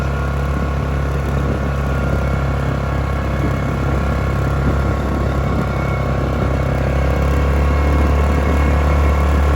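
Yamaha Grizzly ATV engine running steadily while riding a trail, a constant loud droning rumble with a rhythmic pulse, slightly rich on fuel, with no voices.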